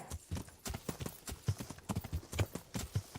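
Galloping horse in the medieval game Kingdom Come: Deliverance, hooves pounding in a quick, steady clip-clop rhythm close up, with heavier low thumps on some strides.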